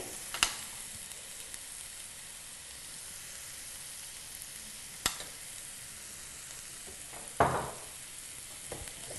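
Onions sizzle softly in hot oil with a little salt for a mutton kurma, a low continuous frying hiss broken by a few sharp clinks and stirring scrapes.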